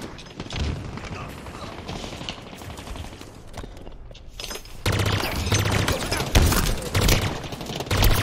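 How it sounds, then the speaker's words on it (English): Chaotic Halo Infinite firefight with dense, continuous gunfire and grenade explosions. Bursts and booms overlap throughout and grow louder and heavier in the second half, with no clear gap. "Grenades are fucking flying everywhere."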